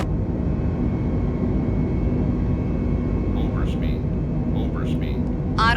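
An airliner climbs after takeoff in Microsoft Flight Simulator, its engines a steady, loud broadband roar with a low rumble, joined near the end by brief voice sounds.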